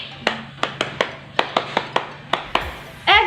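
Sharp, single hand claps spaced about a beat apart, roughly ten of them in a steady rhythm, close and clear over a quiet room, ending in a short rising chime.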